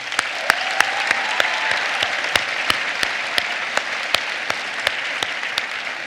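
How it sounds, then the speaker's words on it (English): Steady applause from a commencement audience at a School of Dentistry graduation, a dense continuous wash of many hands with a few sharper claps standing out, sustained throughout without talk. "Please give them a round of applause."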